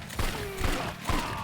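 Gunfire in the Yakuza 4 video game, three sharp loud shots spaced about half a second apart over a steady game background.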